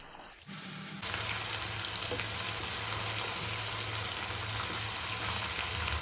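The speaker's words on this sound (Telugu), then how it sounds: "కళాయి పెట్టి పన్నీరు వేయించుకుందాం." Paneer sizzles in oil in a kadai on a low flame, a steady dense hiss that starts sharply after a brief quiet moment and holds evenly, close and fairly loud, with no talking.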